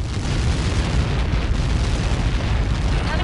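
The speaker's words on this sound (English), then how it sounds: "How many got caught in that explosion?" A massive in-game explosion from a Helios projectile impact in the video game Ace Combat 7, a loud sustained roar of rumbling blast noise filling the whole span at steady high level, heard alone without talk.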